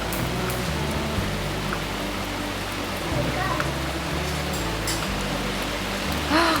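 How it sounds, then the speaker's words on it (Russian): Steady, dense hiss of heavy summer rain pouring down, continuous and enveloping, with a faint low hum underneath. "Слушайте, какой звук дождя"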